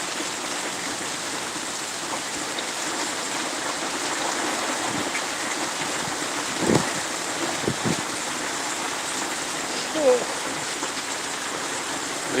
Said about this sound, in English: It's crazy out here. The wind is nuts.